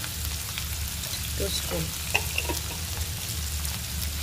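Onions and turmeric frying in a pan for a mutton dry dish give a steady, close sizzle throughout, with a few faint utensil clinks and brief soft speech.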